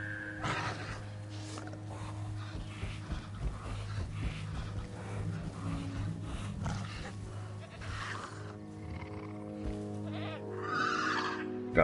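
A goat bleats repeatedly in Jurassic World Evolution, its wavering cries rising over a busy background of rumbling ambience and scattered game sounds at moderate distance.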